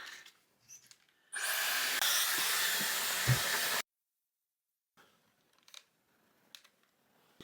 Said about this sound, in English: I'm going to dry some of this out of my hair